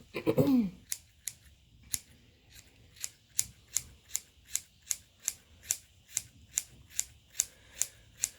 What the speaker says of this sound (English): It helps to have a good sharp pair of scissors too.